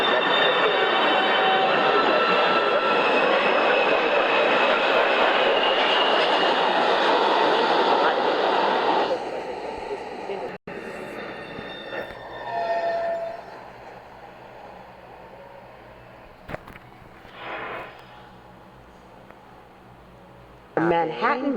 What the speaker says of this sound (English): A Manhattan-bound 1 train.